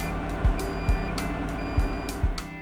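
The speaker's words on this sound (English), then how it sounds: "This device will warn you by means of a buzzer and warning text on the display." The overload warning buzzer on a Volvo E-series crawler excavator sounds four short, evenly spaced electronic beeps over a low steady machine hum.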